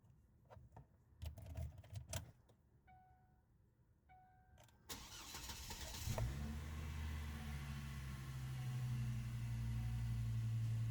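A car engine starts and idles steadily after its mass air flow sensor has been cleaned, preceded by clicks and ratchet handling; the running engine is close and continuous for the final several seconds.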